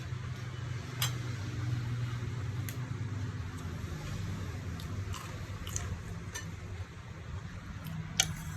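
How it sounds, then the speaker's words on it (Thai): Someone eats a home-cooked Thai meal of mackerel chili dip, stir-fried bitter melon with egg and garlic-fried pork belly, with soft, scattered crunches and clicks of chewing over a quiet, low background hum. "เคี้ยวนะคะไม่ต้องรีบ"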